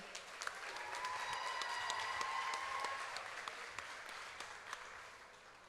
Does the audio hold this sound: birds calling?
no